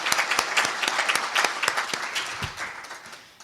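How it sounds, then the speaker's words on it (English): A round of applause at a credit union annual meeting, many hands clapping steadily for board members gathered up front, dense and sustained across the whole stretch before tapering slightly at the end. "So can we get a round of applause for our board members up here,"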